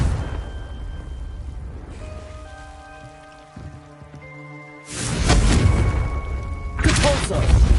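A Confringo fire spell in the video game Hogwarts Legacy erupts in a loud, broad blast over soft background music, followed by a second burst a moment later.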